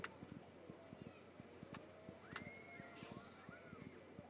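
Horseback riding in a video game: steady, evenly spaced hoof clip-clops keep a trotting rhythm, with a whinny and a few brighter game effects over the top.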